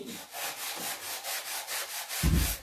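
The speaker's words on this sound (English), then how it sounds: "You can even sand it a bit more that the blue color becomes more prominent from the back." A painted stencil is sanded by hand in quick rhythmic strokes, a near, raspy scraping repeated about ten times, with a brief low thump near the end and no talk.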